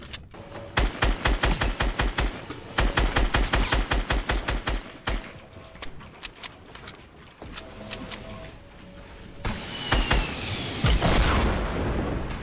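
Rapid weapon fire in Fortnite, dense bursts of sharp cracks in quick rhythmic volleys, then scattered shots and a louder blast-like roar near the end, with no talking.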